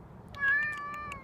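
A cat on a city street gives one soft, drawn-out meow at moderate distance, rising a little and then sliding down over about a second against quiet outdoor background noise.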